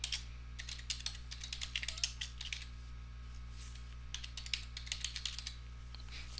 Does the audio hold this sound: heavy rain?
no